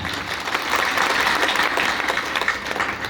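An audience at a rally in Kodraghat, Madhepura claps steadily for about three seconds, a dense sustained patter of many hands without pauses.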